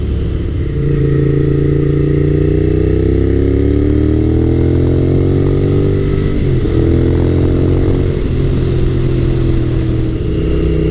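Honda VTR1000 F SuperHawk V-twin motorcycle engine heard steadily while riding, a loud, close, continuous drone whose pitch rises and falls gently with throttle over about eleven seconds.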